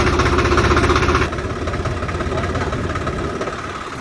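A loud tractor diesel engine idles with a steady, rough chugging rumble close by, dropping slightly in intensity after a moment and continuing evenly.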